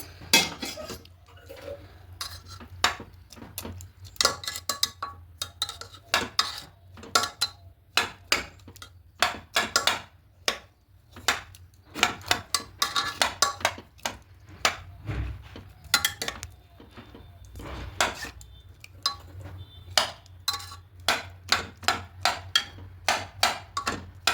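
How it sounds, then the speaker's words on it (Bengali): Metal spatula chops boiled potatoes in a pan while chana masala cooks, a long run of sharp, irregular clinks and scrapes against the pan, loud and close with only faint background hum. "এবার আলুগুলোকে একটু খুঁটি দিয়ে এখানে কেটে নেবো"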